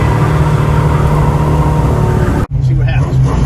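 A 1969 Dodge Charger R/T's engine roars loud and close during a cold start, a dense steady rumble broken by a brief cutout before it carries on.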